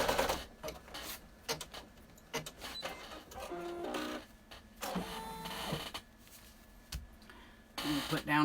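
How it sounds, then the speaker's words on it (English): A home embroidery machine stitches a placement line for a treat pouch, giving short bursts of fast, buzzy, rattling needle strokes with brief pauses between them, close and fairly quiet. "Start by stitching the placement."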